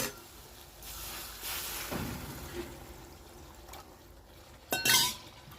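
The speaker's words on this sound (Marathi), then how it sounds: "आणि आता यामध्ये ना थोडंसं पाणी टाकते मी" A little water is poured into a pan of frying chilli powder and turmeric for a moong dal dish. A low, quiet sizzle runs for a while, then a brief, louder splash and hiss burst out near the end.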